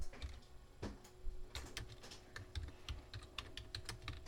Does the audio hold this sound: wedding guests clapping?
no